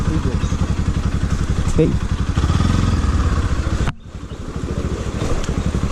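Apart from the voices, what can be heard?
motorcycle riding through a water crossing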